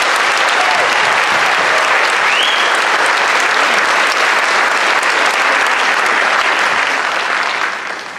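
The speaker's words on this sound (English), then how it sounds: "Please, let's give them a round of applause." Loud, dense applause fills a school senior class night for award recipients, a steady crowd of clapping hands holding for about eight seconds before tapering slightly at the end.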